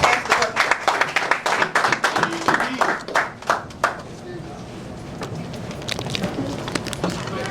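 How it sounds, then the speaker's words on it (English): Audience applause at a community gathering in Norfolk, Virginia: a few close, sharp, uneven claps at first, thinning into softer scattered clapping under voices and talk. "So give them a round of applause"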